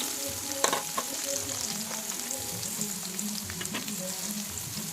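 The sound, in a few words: onions and green chillies frying in oil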